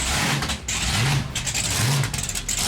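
A 3,000 horsepower car engine revs hard and loud outdoors at a car show, its roaring note rising and falling in repeated surges close by.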